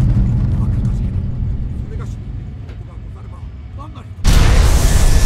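Heavy weapon fire from a starship battle in Fallout 3 erupts as a sudden loud, dense blast after a stretch of low rumbling and talk, sustained to the end.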